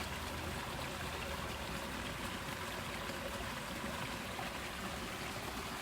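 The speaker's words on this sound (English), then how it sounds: "water running and falling over cliffs and rocks and hills." A stream at a nature preserve runs over rocks in a continuous, quiet, even wash of water with no breaks, no voices and no other distinct sounds.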